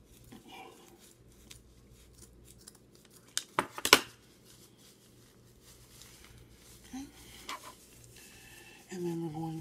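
Scissors snip off excess fabric from sewn doll harem pants, a few quiet crisp cuts clustered near the middle with light handling rustle, close and faint, alone without talk.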